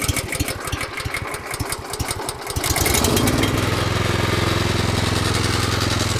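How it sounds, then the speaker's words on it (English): A petrol rotavator on choke is pull-started: a sputtering, uneven rattle for a couple of seconds, then the engine catches and settles into a steady, loud running drone, close by. "So now we're going to start the machine"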